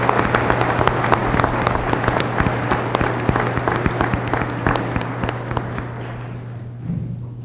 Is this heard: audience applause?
yes